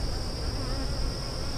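Dense, continuous buzzing of many honeybees covering a hive frame, close and steady, with no voices.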